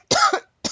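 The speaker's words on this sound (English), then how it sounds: "I don't know why I'm coughing in your ear." A person coughs twice, a strong close cough followed by a brief second one after a short pause.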